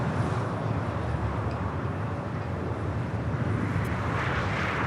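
Jet airliner on a south-side takeoff at LAX, a broad steady roar of engines heard from a distance, continuous and fairly loud without voices.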